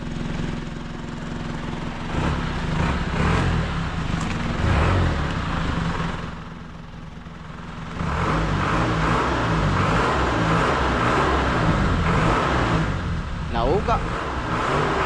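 A Mitsubishi M51 engine meant for mounting on a boat runs steadily at close range, its loud rhythmic clatter dipping briefly before picking back up, with a voice talking over it.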